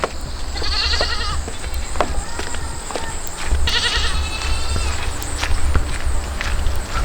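Several goats bleat in bursts on a homestead, close and loud, over a low steady hum with occasional rustling and footsteps.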